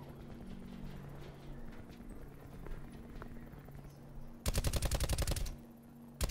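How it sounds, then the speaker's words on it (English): Gunfire in a first-person shooter video game: after a stretch of quieter background sound, a loud, rapid burst of shots hits for about a second near the end, followed by another sharp shot. "What are you shooting at?"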